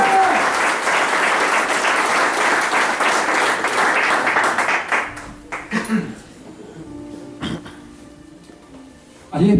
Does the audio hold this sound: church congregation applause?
yes